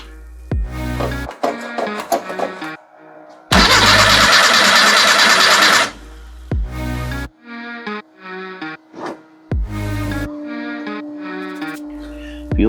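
An off-road vehicle being readied for a mudding trip starts up with a loud burst of cranking and catching engine noise, set among other intermittent mechanical tones and clunks.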